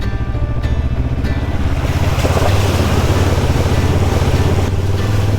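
A new motorcycle splashes through a rocky-bottomed river on a remote track, its engine droning steadily beneath a continuous loud rush of churning water and wind buffeting the microphone, with no talk.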